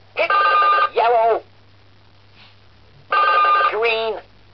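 The DJ Mole rock-and-roll board game sounds an electronic telephone ring in two loud, evenly spaced bursts of double trills with a quiet gap between them, and nothing else over it.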